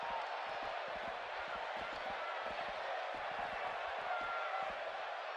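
Arena crowd noise in a WWE 2K17 wrestling video game, a steady roar of cheering spectators at a SmackDown event with sharp thuds and slams of ring action, under continuous commentary.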